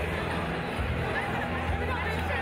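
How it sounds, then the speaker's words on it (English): Crowd noise at a roller derby bout, a steady wash of cheering and chatter from a large audience in an arena, sustained and fairly even throughout. "The crowd goes wild."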